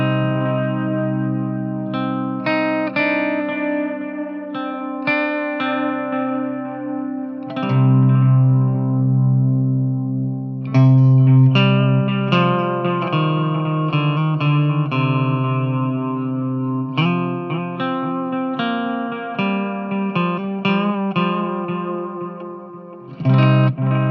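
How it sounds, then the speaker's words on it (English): Electric guitar played through a Strymon Timeline delay pedal on analog delay settings, picked notes and chords with repeating echoes trailing after each phrase, loud and alone with no talk. "we'll start with some analog sounds from the Strymon Timeline"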